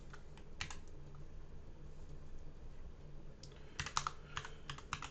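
Quiet bursts of clicking keystrokes on a computer keyboard, a short flurry early on and a denser run of typing near the end, with no talking.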